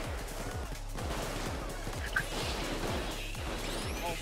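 Rapid gunfire in the Payday 2 heist Golden Grin Casino, played loud on Death Wish difficulty: a steady string of sharp shots pounding in quick rhythm throughout, dense and close, with no pause.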